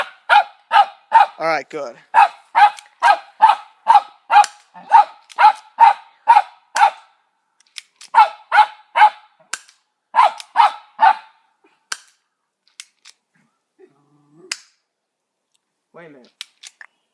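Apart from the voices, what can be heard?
dogs barking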